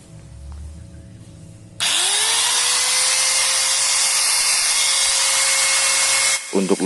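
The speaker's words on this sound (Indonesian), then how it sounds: "Saya coba lagi ya suara dari gerinda Stanley ini." Stanley STGT 6100 angle grinder switched on: a low background hum, then the motor spins up into a loud, steady, high-pitched whine that holds for several seconds before cutting off abruptly.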